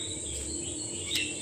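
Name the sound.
birds chirping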